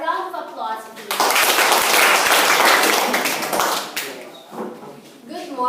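Applause from a school debate audience of Grade 9 students breaks out after an introduction, rising to a loud dense burst, then thinning out as a voice begins speaking near the end.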